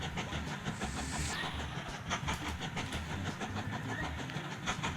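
Passenger trains run in the railway-building game Mashinky, making a steady rumbling roll with rhythmic clicking over a continuous engine drone.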